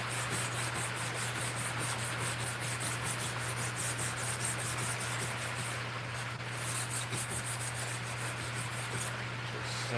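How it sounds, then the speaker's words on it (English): Sanding out grinder marks, heard as a continuous rhythmic rubbing with quick repeated strokes over a steady low electrical hum, close and fairly even throughout. "sanding out grinder marks."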